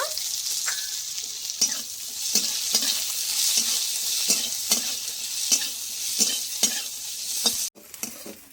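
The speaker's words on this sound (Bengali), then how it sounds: "রসুনটা ভাজা হয়ে গেছে, এবার আমি দিয়ে দেবো পেঁয়াজ কুচি। পেঁয়াজটা একটু ভেজে নেব" Chopped garlic and onion sizzle steadily in hot oil while a spatula scrapes and stirs the pan in regular strokes, close and moderately loud with no talking.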